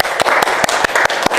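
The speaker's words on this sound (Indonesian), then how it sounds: "kita beri tepuk tangan yang meriah untuk penampilan kelompok" A classroom audience claps for a presenting group, a loud, close burst of many hands with sharp, fairly regular peaks throughout.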